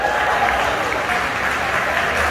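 At an interior design awards gala, a large audience applauds and cheers in a dense, steady wash of clapping that stays loud and unbroken throughout.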